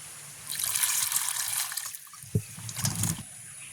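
Raw plantains being washed in water, with splashing and trickling that swell and fade in short bursts, close by and moderately loud.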